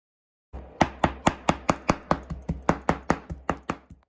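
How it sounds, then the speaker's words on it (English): Peeled, cleaned prawns being chopped with a knife on a board, about fourteen crisp, evenly spaced thuds in quick succession, close and clear with no talking. "We just peel them off and we are ready to chop them up."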